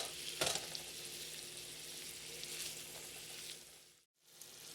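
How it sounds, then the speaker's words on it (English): A pound of ground beef browns in a pan with a steady, soft sizzle and a couple of brief stirring scrapes, followed by a short gap near the end. "the next step, as you can see here, is to brown 1 pound of ground beef"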